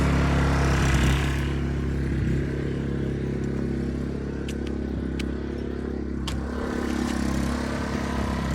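Westinghouse iGen2550c inverter generator running in a garage, a steady, loud low engine hum held throughout with faint ticks and clatter on top.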